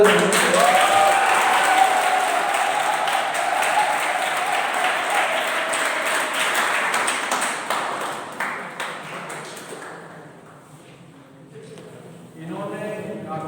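An audience at an engineering quiz event breaks into sustained applause. The dense clapping carries for about ten seconds, then thins out and fades. A brief ringing tone sounds at the start.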